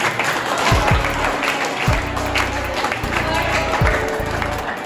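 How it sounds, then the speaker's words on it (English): Audience clapping at a school inter-house science quiz competition, a broad wash of applause filling the room with a few low thumps and voices mixed underneath. "Give a clap for him."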